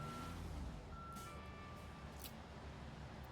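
Reversing beeps sound from a concrete mixer truck backing up in the Construction Simulator video game. The steady, evenly spaced electronic tones run over a low engine rumble.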